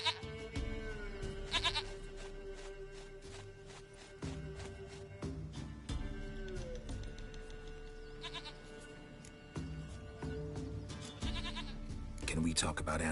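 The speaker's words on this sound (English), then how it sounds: "Goat of mine, dearest," Goat bleating in The Witcher 3: Wild Hunt, repeated bleats rising over a steady game music bed and ambient drone, with a character's voice speaking intermittently throughout.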